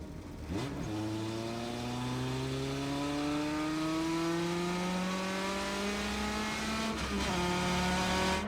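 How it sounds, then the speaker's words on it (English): Onboard a Lotus Elite racing at the 2006 Le Mans Classic, the engine note climbs steadily through a long gear, drops at a shift near the end and starts rising again, loud and close throughout. "We're riding on board the Lotus of Michel Toulouse and Jean-Jacques Gravier."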